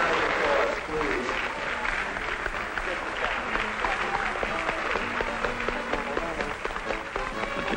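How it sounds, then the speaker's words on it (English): Studio audience applauding comic-book contest contestants at a 1970s fan event, a dense steady wash of clapping from start to finish with a louder burst at the opening, no talk over it. "Let's give all of the contestants a very big round of applause, please."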